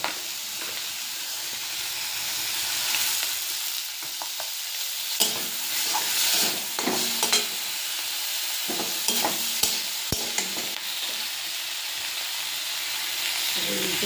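Oil left from frying fish being stirred in a pan before eggplant goes in: continuous loud sizzle and hiss with scattered scrapes and clicks of the spatula, no voices.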